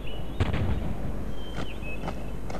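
Cannon fire in the video game Svea Rike II comes as several dull booming shots spread across the clip over a steady game background hum, with no speech.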